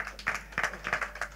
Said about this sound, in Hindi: हमारे साथ में शिल्पा शेट्टी जी, एक बार जोरदार तालियां होनी चाहिए।